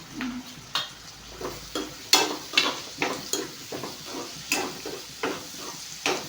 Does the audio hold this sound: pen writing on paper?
no